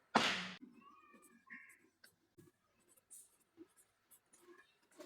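A pen writing on paper during a math lesson, with scattered faint strokes and scratches after an opening loud thump, quiet and close.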